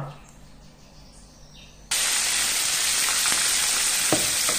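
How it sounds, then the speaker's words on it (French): Salted sole fish drops into hot oil in a pan and breaks into a loud, steady, close sizzle, following a quieter kitchen background with a few faint clinks. "Ça, c'est juste pour sauter le poisson salé."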